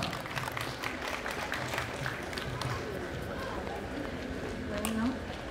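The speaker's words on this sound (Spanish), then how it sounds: "Ninfa Justina Chacón, a quien recibimos con fuertes aplausos de la flamante esposa." Steady applause from a wedding reception crowd, a dense continuous patter of clapping at moderate distance with faint voices mixed in.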